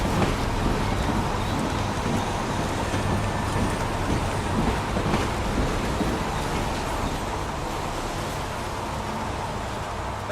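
Steady rain pours without a break in the video game Heavy Rain, a dense, even hiss with a low rumble underneath.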